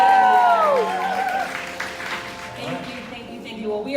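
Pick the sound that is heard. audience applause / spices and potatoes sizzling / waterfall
audience applause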